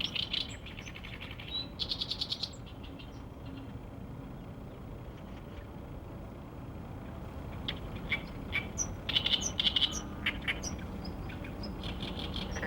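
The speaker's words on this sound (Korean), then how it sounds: "낙동강 삼각주 갈대숲은 도요새들에게 좋은 은신처가 된다" Sandpipers call from reed beds in the Nakdong River delta, sharp high chirps and piping notes coming in scattered bursts over a steady low wind-like rush, some calls near and others farther off.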